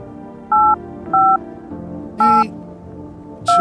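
Touch-tone telephone dialing in a video game: four short, loud, evenly spaced keypad beeps ring out over a quiet background hum, with no voices.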